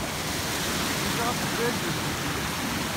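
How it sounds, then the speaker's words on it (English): Spring water gushing out from under the ground at Murphy's Hollow Spring, a steady broadband rushing wash that holds evenly throughout, with people talking faintly over it. "I can't believe how much water is coming out from under there."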